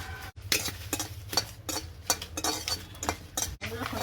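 Dried chillies fry in a pan while a spatula stirs them, with repeated quick metallic scrapes and clinks in an uneven rhythm over a faint low sizzle, close and fairly quiet.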